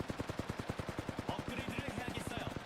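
Rapid, evenly spaced automatic rifle fire from the Flatline in Apex Legends, a sustained burst of sharp shots over a few seconds, with faint background game sounds.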